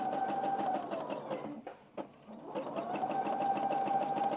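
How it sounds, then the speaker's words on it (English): A sewing machine stitches a quilted Easter egg table runner with a steady, close mechanical whir that dips briefly mid-run before resuming at an even pace. "we're stitching along on this one just fine"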